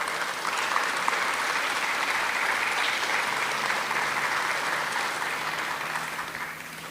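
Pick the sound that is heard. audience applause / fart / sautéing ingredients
audience applause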